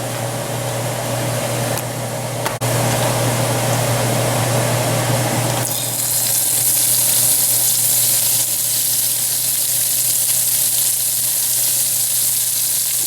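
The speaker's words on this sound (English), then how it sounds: "We're going to start browning the meat." Beef browns in oil in a hot Dutch oven, giving a loud, continuous sizzle up close that grows brighter and fuller partway through as more meat hits the pan.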